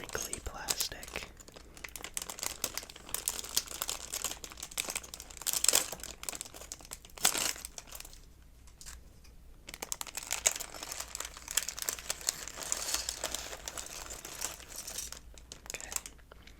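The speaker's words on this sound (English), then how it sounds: "we're going to pull our first pack, which is pack number 5, in the crinkly plastic" Crinkly plastic bag holding a numbered Lego pack being opened and handled, a close, continuous rustling and crackling with bursts of louder crumpling and brief quieter pauses, with soft whispery voice faintly underneath.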